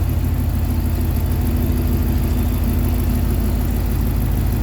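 A Jeep Commander with a 5.7 engine idles steadily after start-up, freshly repaired for broken exhaust manifold bolts. It gives a loud, close, even rumble with a constant low drone and no talking.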